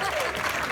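A studio audience on a TV panel show breaks into applause, a short loud burst of dense clapping under a host's voice.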